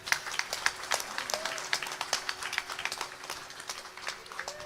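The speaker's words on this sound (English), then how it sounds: "You can give them a big round of applause." Scattered hand clapping from wedding guests at a Vedic Vivaah Sanskaar ceremony, a loose string of separate, fairly close claps that never builds into a dense roar, with faint voices murmuring underneath.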